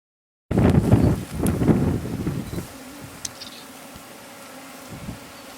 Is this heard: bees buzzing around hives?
yes